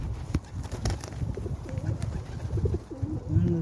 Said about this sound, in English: Good feast for the little pigeons.